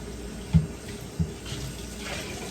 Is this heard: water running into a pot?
yes